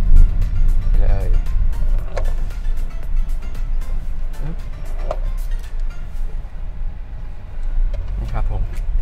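Honda Jazz, an early model driven on Thai roads, gives a steady car engine and road rumble throughout, with someone talking over the drive.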